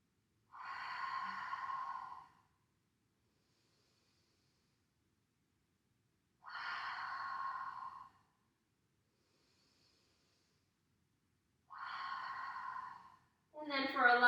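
Three slow, deliberate exhales during a yoga breathing practice, each a soft airy rush lasting about two seconds, evenly spaced in near silence, with a final breath at the end.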